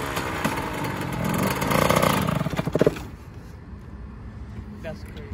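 A 2000 Yamaha YZ80 two-stroke dirt bike engine revs loud and raspy, rising to a peak and then dropping back toward idle, heard close with voices talking over it.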